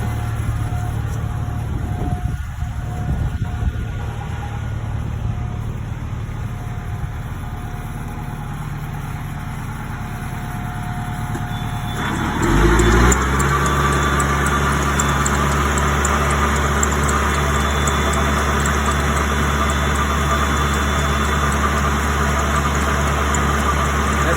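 Water pumps on a super washer running with a booster pump, a steady mechanical drone that suddenly swells louder and deeper partway through as the extra pump comes on, then holds a constant heavy hum.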